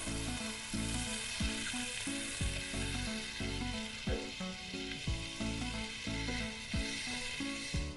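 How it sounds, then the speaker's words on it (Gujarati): Boiled sprouted whole moong beans sizzle in a hot pan, a steady dense frying hiss with regular clicking stirs of a spoon, close and alone. "હવે તેમાં બાફેલા અંગૂર આખા મગ લઈએ છે."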